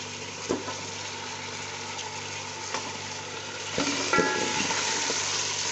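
Chicken pieces frying and being stirred in browned onion, ginger and garlic paste for a degi-style chicken korma at home, a steady close sizzle with occasional spoon scrapes and knocks against the pot.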